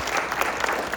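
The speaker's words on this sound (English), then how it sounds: "Let's give our candidates a round of applause" Audience applause for candidates at a non-partisan candidate forum, a steady patter of many hands clapping together for about a second, moderately loud and filling the room.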